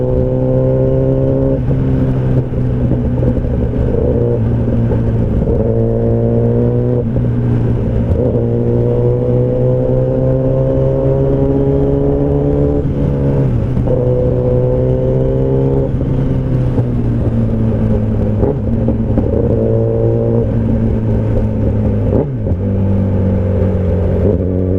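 A Kawasaki Ninja ZX10R superbike rides through hot city traffic, its engine a loud, continuous close-up drone that rises and falls in pitch with gear changes and throttle, wind rushing steadily underneath.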